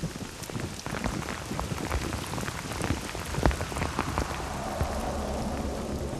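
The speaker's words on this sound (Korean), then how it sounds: "예보에도 없던 비가 내리기 시작합니다." Rain falls steadily on a forested mountainside during mushroom-picking season, a dense patter of drops striking leaves and surfaces, with sharper nearby drips scattered throughout and no voices.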